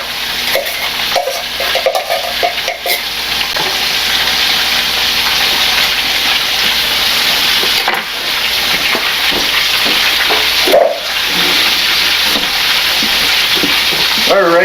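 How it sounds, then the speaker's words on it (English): Seasoned vegetable mix for a black pepper steak stir fry frying in a hot pan, giving a steady, loud broadband sizzle that runs throughout with occasional stirring clatter. "Then I'm going to put our seasoned vegetable mix in here."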